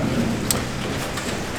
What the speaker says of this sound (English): All day raining.